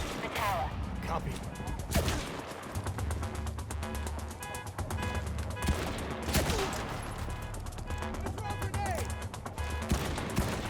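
Gunfire in the video game CrossfireX on Xbox Series S: repeated bursts of shots and rapid automatic fire over game music and effects, with a voice speaking at times.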